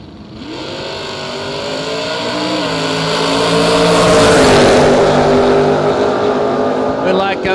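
Footbrake drag racing pair launching down the strip, a pony-class car and a Camaro, engines building to a loud roaring surge that peaks midway then holds, with announcer talk over the top.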